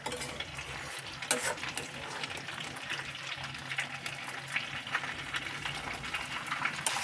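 A pre-fried fish head goes into a pan of watermelon ghonto, with steady oil sizzling, a spoon scraping and stirring, and occasional clinks of the pan, all heard close up.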